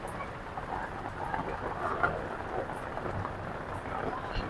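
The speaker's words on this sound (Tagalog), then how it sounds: "malakas ang ulan sa labas" Heavy rain falling outside, a steady broadband hiss of downpour holding at an even level throughout, with no distinct thunder claps.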